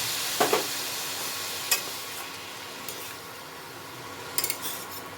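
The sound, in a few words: banana stem being stir-fried with spices in a pan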